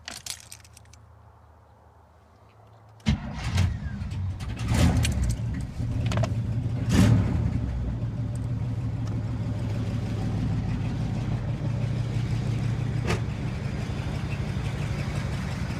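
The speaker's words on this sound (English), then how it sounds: "the truck is now running." A truck engine cranks with a sharp start at about three seconds, then settles into a steady, close idle after its battery has been charged, with a light jangle of keys near the start.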